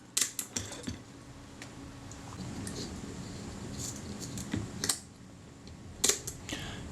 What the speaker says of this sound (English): Now we have a film advance which winds round until it locks and the shutter fires.